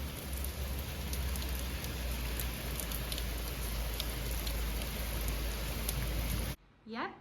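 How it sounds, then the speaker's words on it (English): Steady rain falls on a rainy day in a small Sicilian village, a continuous dense patter with scattered sharper drop hits, then it cuts off abruptly near the end, where a brief voice is heard. "Yep, it is a lovely rainy day."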